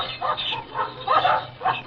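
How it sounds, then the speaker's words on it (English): Dogs bark and yip in a 1944 radio drama of The Pied Piper of Hamelin, several close, loud bursts coming in an irregular rhythm across two seconds with no talk over them. "They fought the dogs"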